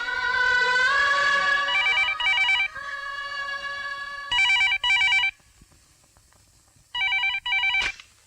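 Telephone ringing, with a loud, close electronic bell tone sounding in several bursts of rapid warbling rings separated by quiet gaps.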